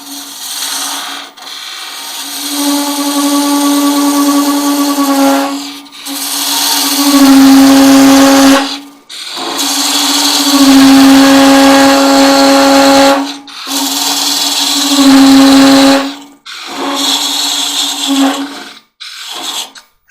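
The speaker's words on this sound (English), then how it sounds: "Now we'll go back to our parting tool, cut down a little further" A parting tool cuts into a spinning goblet stem on a wood lathe in repeated bursts, each a loud humming, rasping whine that stops between cuts, close up with no talk.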